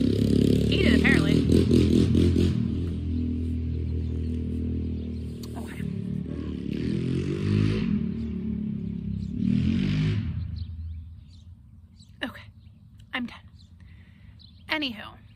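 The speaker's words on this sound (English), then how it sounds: "Who buys a four-wheeler in a neighborhood?" A four-wheeler ATV rides through a residential neighborhood, its engine rumbling and revving loudly nearby before fading off into the distance, with a person talking over it.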